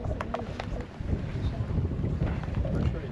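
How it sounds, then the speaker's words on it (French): Wind gusting over the water aboard a sailboat at sea, a broad rushing buffet with microphone wind noise and hull and water sounds, fairly steady and close throughout. "Le vent se lève comme prévu."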